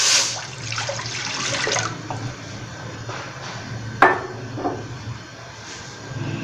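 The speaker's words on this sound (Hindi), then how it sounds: "फ्रेंड्स, सबसे पहले पानी डालेंगे 2 गिलास।" Two glasses of water pour steadily into a container for tamarind and plum sharbat with a broadband splashing wash, ending near two seconds; a sharp clink and small knocks follow in a quiet kitchen.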